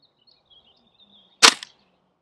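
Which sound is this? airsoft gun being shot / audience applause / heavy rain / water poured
airsoft gun being shot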